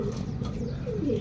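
Racing pigeons at a club training session in Pagsanjan, Laguna coo softly and repeatedly over a dense, steady background murmur of birds, with no talk.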